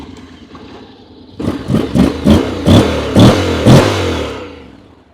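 A 2021 Honda X-ADV 750 scooter starts up close by with a brief crank, then its engine catches and revs in a run of sharp, rising throttle blips before settling back.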